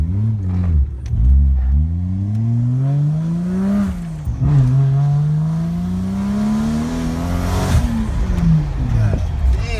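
Engine of a Honda Civic R18 with turbo issues revs and rises in pitch while pulling hard in first gear, loud and close from inside the cabin, with a brief dip and a gear change partway through; a voice speaks over it.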